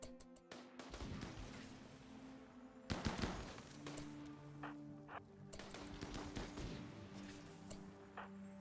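Chain shotgun fire in RimWorld: Odyssey, a run of sharp cracks in scattered bursts over a steady low hum, some clustered rapid shots and others isolated, moderately quiet, with no one talking.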